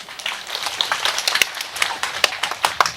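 Audience clapping at a gathering in Korea, a scattered patter of hand claps with sharp individual peaks, fairly close and moderately loud, with no talk over it.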